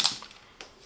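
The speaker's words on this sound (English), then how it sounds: "It locks," The cable lock on a Talon Pro trail camera clicks shut, two small sharp plastic-metal clicks close up, with a quiet pause between them.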